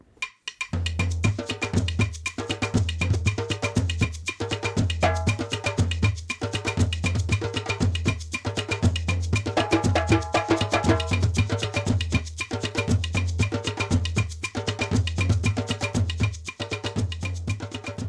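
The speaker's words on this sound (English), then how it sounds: "Listen to this example of West African drumming" Layered hand drums play interlocking repeating patterns in a steady, driving rhythm, loud and continuous throughout with no voices.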